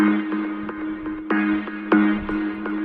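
Super pluck preset on the Vital software synth: bright, sharp plucked synth notes with sustained tonal layers, repeated attacks in an uneven pattern, close and fairly loud with no talking.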